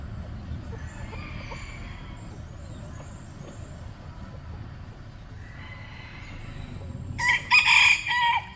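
A rooster crows loudly and close by near the end, after a steady backdrop of quiet farmyard ambience on temple grounds in a forested area of Kalasin, Thailand.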